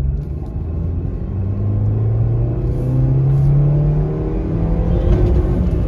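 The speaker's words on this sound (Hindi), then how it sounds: "20 की स्पीड, सेकंड गियर, पंजा पूरा अंदर।" A 2023 Maruti Suzuki Swift VXi petrol hatchback accelerates hard in second gear from about 20 km/h, the engine note climbing steadily and loud from inside the cabin.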